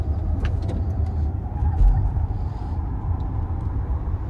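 A 2022 Audi e-tron electric car cruises along a road, heard from inside as a steady, smooth low rumble of tire and road noise with no engine note and no voices.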